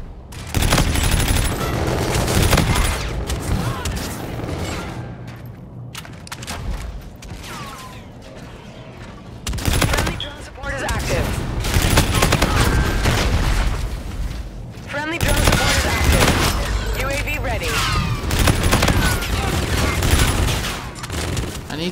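Assault rifle fire in a Call of Duty-style shooter comes in loud, dense bursts separated by brief lulls, with booming impacts and explosions among them and voices talking over the action.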